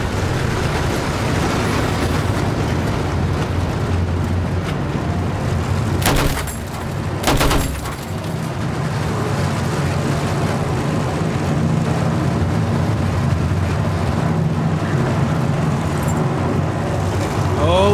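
Tank engine rumbling steadily in Battlefield 1, a heavy continuous drone with two sharp loud cannon blasts close together in the middle, and voices talking over it.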